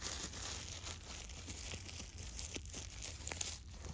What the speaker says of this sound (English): So the plastic is off the box.